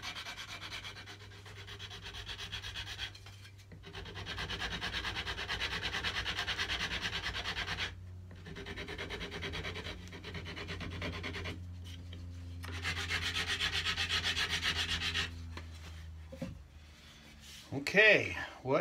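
Hand-sanding the sharp corners off a wooden cigar box guitar neck, steady rasping strokes in several long bursts with short pauses, close and fairly loud, a low hum underneath.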